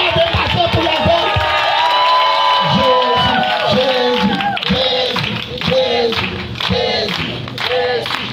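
A large crowd at a night worship gathering in a stadium cheers and shouts in loud, rising waves, with voices whooping and some clapping mixed in, close and energetic throughout.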